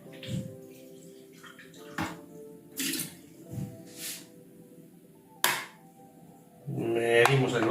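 Water is poured into a glass to dissolve a powder, with short splashy bursts and clinks followed by a longer, fuller pour at the end; a person talks in between.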